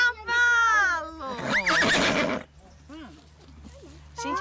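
A horse whinnies loudly and close, a long quavering neigh, with excited voices of a child and adult chattering around it.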